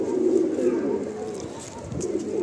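Pigeons cooing steadily in a loft, a low soft murmur of several birds close by.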